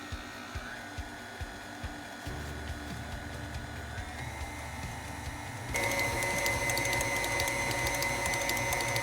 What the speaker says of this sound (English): now I'm gonna bring it over to my mixer.